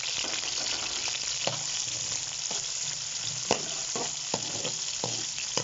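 Chopped medium onion frying in hot ghee for beef yakhni pulao, a dense continuous sizzle with occasional sharp crackles and stirring knocks, close and fairly loud without any voices.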